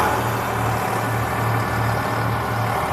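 A tractor engine held at 1500 RPM hums close by in a continuous, even, low drone with no break.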